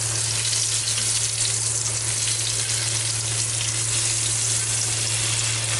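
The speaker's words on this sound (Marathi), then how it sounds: "तर इथे आपण आता मच्छीला दुसऱ्या साईडने पलटी करून घेणार आहे" Masala fish pieces, just flipped, fry in a pan with a loud, steady, unbroken sizzle that holds at one level throughout, close up and with no voices.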